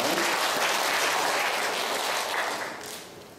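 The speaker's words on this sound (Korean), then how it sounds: "자, 우리 하나님께 영광의 박수 드리시기 바랍니다." Congregation at a church gathering claps together in sustained, dense applause, steady and loud for about three seconds before tapering off slightly at the end.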